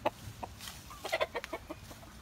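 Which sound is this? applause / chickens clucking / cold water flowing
chickens clucking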